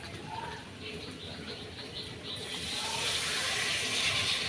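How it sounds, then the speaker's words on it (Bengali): Water is poured into a pan of prawn curry, a steady hissing pour that grows fuller and louder toward the end, heard close and alone. "এবার পরিমাণ মতো জল দিয়ে দেব।"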